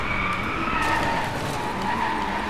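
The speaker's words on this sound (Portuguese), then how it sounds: "Ela escorrega tanto que se apertar o freio de mão, olha o carro como vem rápido" A Lamborghini Huracán slides through a corner in the Driveclub racing game, its tires squealing steadily over a constant engine roar, loud and sustained.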